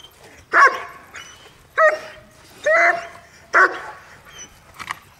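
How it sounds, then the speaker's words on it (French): A dog barks repeatedly during protection training, five sharp, loud, close barks spaced about a second apart with quiet gaps between. "Arrête d'aboyer, t'es dans le vide."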